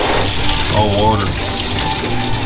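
Rusty water gurgling and splashing as it drains out of an old parts truck, a close, loud, bubbling pour with a burst of sloshing partway through.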